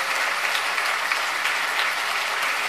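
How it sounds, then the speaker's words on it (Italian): Audience applause for professor Rinaldi at an anti-euro tour event in Milan, a brief burst of dense, steady clapping from a crowd with no voices over it. "Applauso eh. al professor Rinaldi."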